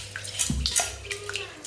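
Rice being washed by hand in a bowl of water for a pressure-cooker chicken biryani, with brief close sloshes and swishes against a steady low hum, no talking.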